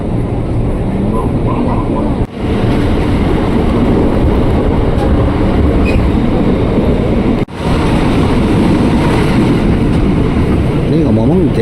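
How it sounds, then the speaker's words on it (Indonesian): A KRL commuter line JR 205 series train pulls into track 3 at Pasar Minggu station, a loud, steady rumble heard from close by that runs throughout with two brief dips. "Kita masuk jalur 3 stasiun Pasar Minggu."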